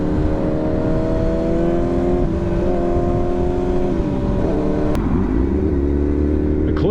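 An older super sport motorcycle engine revs under throttle, a loud, steady drone with rising and falling pitch and a sharp blip near the end, close by with no talking.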